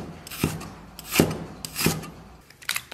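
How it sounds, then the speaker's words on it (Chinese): A knife chops scallion and ginger on a cutting board: four or five crisp, separate strokes about half a second to a second apart, close and fairly quiet, with no talking. "接下来切点这个葱姜，葱切成大段"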